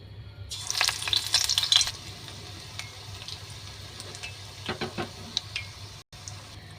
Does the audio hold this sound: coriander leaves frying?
yes